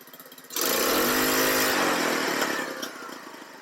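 A cheap homemade buggy's small engine kicks in abruptly after a quiet start and runs at a loud, buzzing rev close by, then eases back with a slight pop near the end; nobody speaks.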